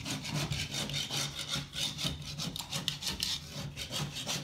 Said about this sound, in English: like little scraping with this tool, all the backing's coming off